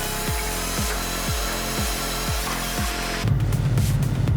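A firewood processor with a John Deere diesel engine cuts round logs, with a steady engine drone, six regular rhythmic thumps of the cutting cycle, and then a louder rough grinding burst, close, with no talk.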